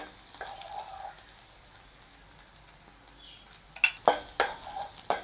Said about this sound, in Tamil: நான் சேர்க்கையில் வெங்காயத்தை முதல்ல பொரிய போடுவோம்.